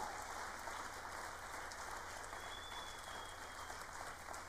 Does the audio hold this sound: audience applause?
yes